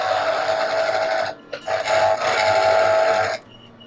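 Electric juicer whirring as it presses limes that have sat too long in the fridge, a loud steady motor drone that halts briefly, restarts, then cuts off near the end.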